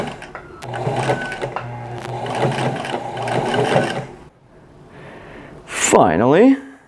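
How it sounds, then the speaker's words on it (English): A sewing machine top-stitches the sleeve of a T-shirt, running in a steady mechanical whir for about four seconds before stopping, followed by a quieter pause and a brief voice near the end. "Of course, I gotta top stitch the sleeve on."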